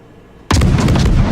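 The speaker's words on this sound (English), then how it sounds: "And now we're putting more rounds on him once again." Naval gunfire from the Benson destroyer in World of Warships, a sudden loud close blast that breaks from a quiet hum into a sustained booming roar.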